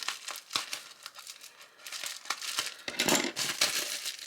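Plastic packaging being cut open for small cubic zirconia earring findings, giving a close, continuous crinkling and rustling with short tearing bursts, no talking.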